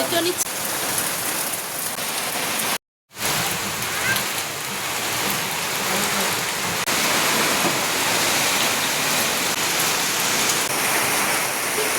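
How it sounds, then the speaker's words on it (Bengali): Heavy downpour in a village pours steadily in a dense, continuous hiss, loud and close, with a brief dropout of silence early on. "দেখো বলতে বলতে চলে আসলো বৃষ্টি, মুষলধারে একদম বৃষ্টি।"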